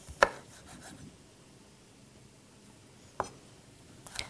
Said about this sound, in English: you're going to cut this guy just like the orange pepper that we did